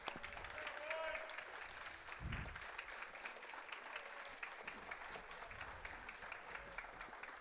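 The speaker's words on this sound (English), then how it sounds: "as the crowd cheers for the Panthers" A crowd at a boys high school basketball game applauds and cheers as the Panthers team comes out, a steady wash of clapping in a gym heard somewhat distantly, with an announcer talking over it.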